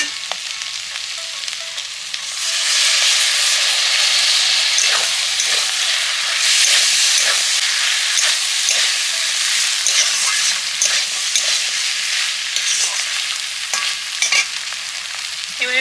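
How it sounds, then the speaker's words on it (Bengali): Mixed vegetables frying steadily in a pan, a loud, continuous close-up sizzle with occasional stirring clatters, no voices. "অনেকটাই সবজিগুলো ভাজা ভাজা করে নিয়েছি, কষে নিয়েছি"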